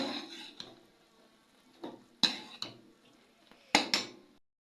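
Spoon scraping and clinking against a pan while jaggery syrup is stirred into a laddu mixture, soft irregular scrapes with a few sharper metallic knocks, close and fairly quiet.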